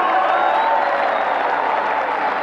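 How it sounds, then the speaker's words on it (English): A large stadium crowd claps steadily and densely at the PSL 2017 cricket opening ceremony in Dubai, a continuous roar of applause with faint cheering mixed in. "A big round of applause, people,"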